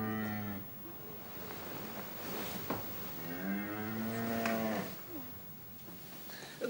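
A distressed cow in a farm setting moos loudly several times, long drawn-out calls with clear pauses between them, close to the listener and with no talk over them.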